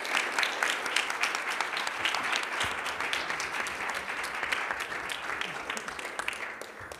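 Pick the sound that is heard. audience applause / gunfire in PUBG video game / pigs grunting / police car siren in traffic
audience applause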